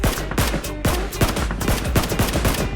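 Rapid bursts of automatic gunfire crack repeatedly in a battle royale game match on a resort island, loud and continuous with uneven rhythm.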